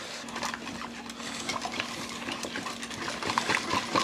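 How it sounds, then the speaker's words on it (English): A whisk beating chickpea flour batter for socca in a bowl, a quick steady run of light scraping and clinking strokes against the bowl, close and moderately loud, no voices. "I like to use a whisk for this because the whisk will break up any lumps."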